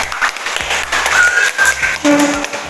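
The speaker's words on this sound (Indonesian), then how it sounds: "Ya, oke, kasih tepuk tangan." Applause from a class of students in a school setting, steady broadband clapping filling the clip with a few tonal squeaks and brief voices underneath.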